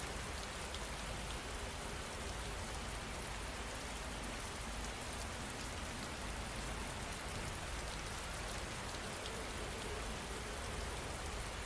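Steady rain falls alone, a constant, even hiss of drops with no gaps or changes throughout.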